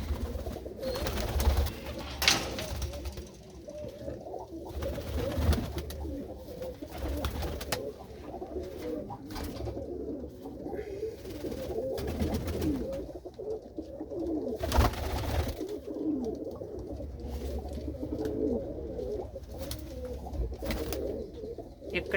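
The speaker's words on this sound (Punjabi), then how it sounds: "ਉਹ ਪਿੱਛੇ ਕਬੂਤਰੀ ਬੈਠੀ ਆ ਕਬੂਤਰ ਸ਼ਾਇਦ ਆਂਡਿਆਂ ਤੇ ਬੈਠਾ ਹੋਊਗਾ" Racing pigeons in a loft at evening feeding time, a pair sitting near their eggs, keep up a long continuous cooing chorus, close and steady, with occasional knocks and shuffles and no voices.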